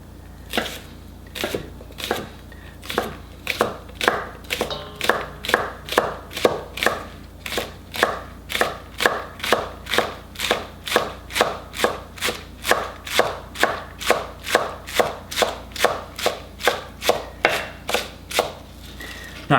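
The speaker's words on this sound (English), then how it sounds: "go ahead and start chopping up the vegetables." Rapid, even knife chops on a cutting board as vegetables are cut up for white kimchi, a close, loud, regular rhythm of around three strikes per second continuing throughout with no talking.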